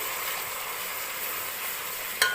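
Kerala-style biryani masala fries in a pan with a soft steady sizzle, quiet and close, ending with a single sharp metallic clink of a utensil, no voices.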